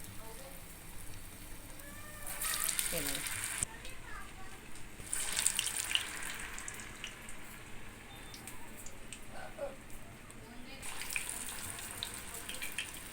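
Water splashed into hot frying oil while making dahi vada sets off sharp bursts of sizzling that flare up, fade and return several times, close by, with voices talking faintly in between.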